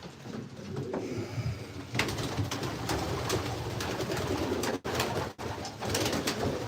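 Racing pigeons cooing steadily in their loft stables, a close, continuous chorus of soft overlapping coos and rustling with no voices.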